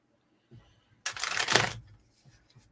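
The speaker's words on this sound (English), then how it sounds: "So Nancy, I'm shuffling the cards" Tarot cards are shuffled in one brisk riffling burst of papery flutter lasting under a second, framed by a few soft taps and handling sounds close by.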